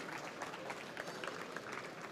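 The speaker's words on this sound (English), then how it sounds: "applause for Dirk and Dougal." Faint, distant audience applause at an investor summit award ceremony, a thin steady patter of clapping heard at low level for a couple of seconds.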